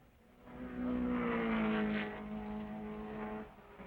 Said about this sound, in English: On the flats, the Corvette's V8s drive them at speeds topping 120 miles an hour.